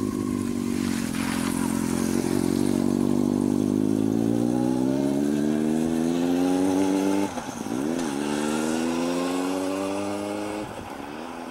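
A 1998–2001 Yamaha R1 motorcycle pulls away, its engine note rising steadily through the gears with a brief dip at a shift, loud and close at first and then fading slightly as it rides off.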